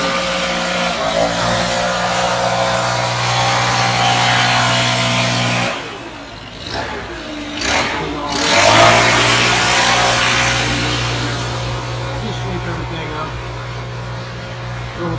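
A gas-powered leaf blower runs steadily while blowing debris out of shrub beds during a landscaping cleanup in Mahomet, Illinois, with a loud, sustained engine drone that briefly dips and then resumes at full power.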